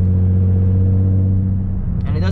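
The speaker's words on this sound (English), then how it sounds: "When you get to high RPMs, it sounds kind of raspy in that VQ sound, but it's not that bad." Nissan 350Z with a swapped VQ engine idling steadily, a loud low-pitched drone with strong harmonics, with a brief higher raspy burst near the end.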